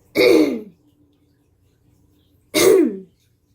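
A person clears phlegm from the throat twice, each a short, harsh, close-up rasp with a pause of quiet between them.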